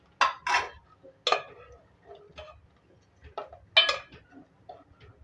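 Custard seviyan being stirred in a pan, with a series of sharp utensil clinks and taps against the metal spaced irregularly, fairly close and alone.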